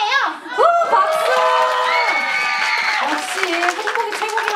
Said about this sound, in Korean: 오, 박수!